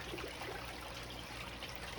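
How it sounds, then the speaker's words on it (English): Steady rushing water pours down onto a gold sluice VDR mat outdoors, a continuous broadband wash with no gaps or voices, fairly close and even in level. "where the water's crashing down onto the mat"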